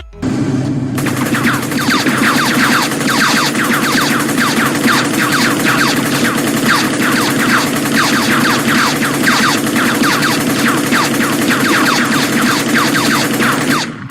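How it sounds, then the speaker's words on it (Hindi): Machine gun fire in an action film scene, a loud, relentless burst of rapid automatic shots sustained for the whole stretch, dense and unbroken, with no voices. "ये कौन सी मशीन गन है जिसमें से गोलियां तो एक बार में 4 निकल रही है"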